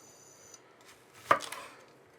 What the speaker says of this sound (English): What we're going to do now is chop these chilies up and get them in the pan.